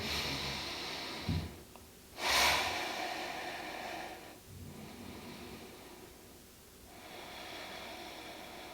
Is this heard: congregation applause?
no